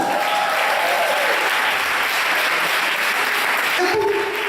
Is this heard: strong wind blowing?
no